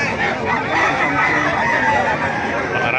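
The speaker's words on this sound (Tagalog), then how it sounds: "Maraming manok." Crowded poultry market in Bocaue, Bulacan, full of chickens and roosters: overlapping clucking and crowing from many birds at once, a continuous busy din with faint voices underneath.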